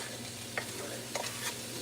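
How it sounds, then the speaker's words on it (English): Chili cooking down in a pot over medium heat gives a steady close hiss of sizzling, with a few brief stirring scrapes and clinks on top and no talking. "Sizzle. Sipping on the sizzle."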